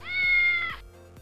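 A cat gives one clear, drawn-out meow lasting under a second, close and fairly loud, then fades into quiet background.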